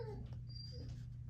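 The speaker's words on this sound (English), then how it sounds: "can you hear my puppy? He's at my door." A puppy whimpers at a door with a few thin, high whines and a brief rising squeal over a low steady hum indoors, fairly faint.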